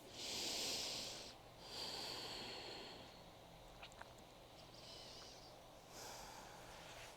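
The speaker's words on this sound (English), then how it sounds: "Keep coming back to slow, deep breathing." Slow, deep breaths during a seated chair yoga routine, with long airy inhales and exhales rising and falling in a steady rhythm, close and soft with no talking.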